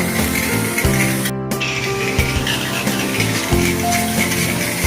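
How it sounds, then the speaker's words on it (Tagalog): Hissing spray of degreaser being applied to a car engine during an engine wash, a loud steady spray broken by brief pauses and a few rubbing and clicking sounds. "Yung ini-spray na yan, degreaser yan."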